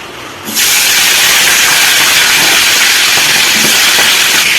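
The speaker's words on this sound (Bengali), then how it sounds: "তো মাছের মাথাগুলো এখন আমি লাল লাল করে ভেজে নিব।" Katla fish heads fry in hot mustard oil with a loud, dense, steady hiss and sizzle that comes on suddenly and holds throughout, close up, with no talking.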